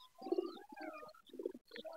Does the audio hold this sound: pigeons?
yes